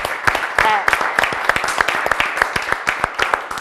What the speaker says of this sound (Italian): Salutiamo la presidentessa, però con un applauso.